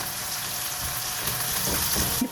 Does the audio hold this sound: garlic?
yes